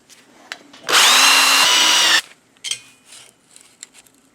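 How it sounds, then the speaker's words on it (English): A power drill bores a hole for a headlight mount on a Scag Tiger Cub mower: one loud, steady whine lasting just over a second, followed by quieter handling knocks. "So that's where we're drilling the hole"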